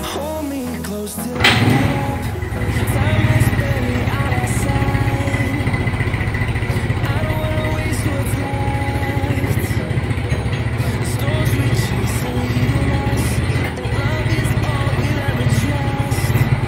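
A motorcycle engine starts with a sharp burst and then idles steadily and loudly for a long stretch, with a constant low rumble and light mechanical clatter. The engine is being flushed with cooking oil.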